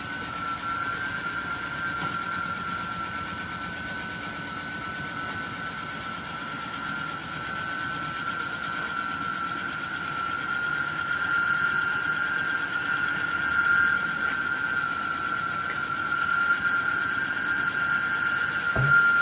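A Javelin 16-4 portable 4 inch auger runs at full speed while conveying dense powder, giving a steady mechanical drone with a constant whining tone that holds evenly throughout and swells slightly toward the end.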